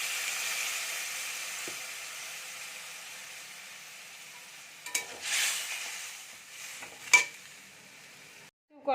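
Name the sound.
fish frying in oil in a pan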